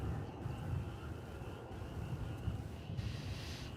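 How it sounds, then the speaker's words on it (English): A large airliner approaches at Dallas/Fort Worth International Airport, a distant, steady engine roar mixed with wind noise, fairly faint throughout. "I see a large aircraft approaching."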